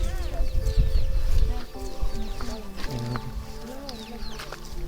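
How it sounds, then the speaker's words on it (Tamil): Chickens cluck and call around a hill temple in Kolli Hills, several birds close by amid a busy outdoor crowd with people talking throughout. "இங்கே கோழி எல்லாம் நிறையா இருக்குது."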